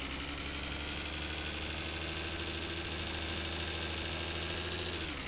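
A motorcycle engine idles in the game My Summer Car, a steady, even mid-pitched putter that holds constant and close for several seconds before dropping slightly at the end, with no talk.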